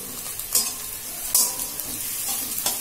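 Almonds are stirred into a sizzling samosa filling in a frying pan, with a steady fry hiss and a few sharp spatula scrapes against the pan.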